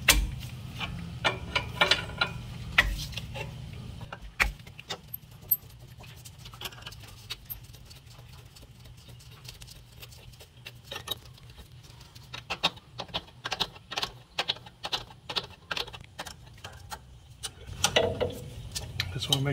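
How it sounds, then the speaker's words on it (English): Metal wrench clicks and clinks while loosening the fuel injector feeder lines on a diesel Kawasaki Mule 3010/4010 engine being repaired for overheating, coming as irregular close taps and rattles in bursts, busier at the start and near the end. "I'm gonna go ahead and remove my injectors. Not the injector, but basically the feeder lines."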